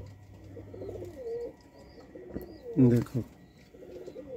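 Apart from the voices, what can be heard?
pigeon cooing, rare eight-kali female pigeon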